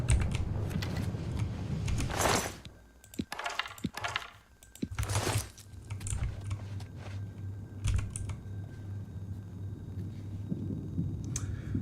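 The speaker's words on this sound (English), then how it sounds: "I gotta get a fucking keyboard that doesn't sound mechanical as shit." Typing on a mechanical computer keyboard during a game stream, with close, clicky keystrokes coming in irregular bursts and short pauses throughout, no speech.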